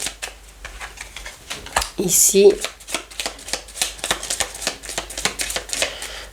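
Tarot cards shuffled and dealt out in quick riffling bursts, close and crisp, with soft slaps as cards are laid down, while someone talks over them.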